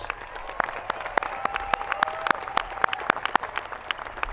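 A graduating class and audience at a high school commencement ceremony give steady, scattered applause for student athletes, dancers and cheerleaders, a dense patter of individual claps heard from a distance.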